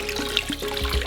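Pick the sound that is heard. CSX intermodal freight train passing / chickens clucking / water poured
water poured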